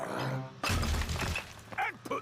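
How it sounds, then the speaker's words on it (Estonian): A cartoon sound effect from a Peppa Pig episode marks an old broken water pipe being pulled out: a sudden clattering crash bursts in, then fades as animated voices speak briefly. "Võtame vana katkise toru välja."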